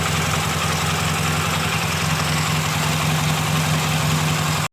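A K750M motorcycle engine idles steadily after being started for the first time in 26 years, a loud, close, continuous low rumble with an even rhythmic throb and no talk.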